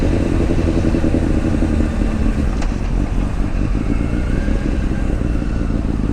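A motorcycle engine runs loud and steady close by, a continuous low rumble with slight rises as the bike pulls away onto the street.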